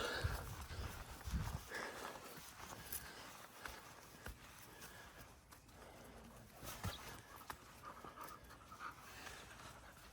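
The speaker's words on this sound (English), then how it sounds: "oh, it's a little puppy." Quick, rhythmic panting breaths from a small dog, faint and steady, over soft background noise and rustling.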